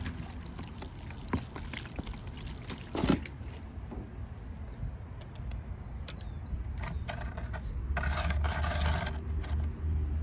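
Water poured over a freshly repotted white pine bonsai planted as a triple fused-trunk tree, a steady soft pouring and trickling wash with a few faint scrapes, fuller toward the end.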